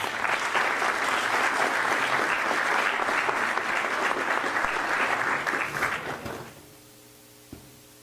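Sustained round of applause from an audience at a year-end ceremony of a heraldry society, dense and even for about six seconds before fading quickly to room quiet.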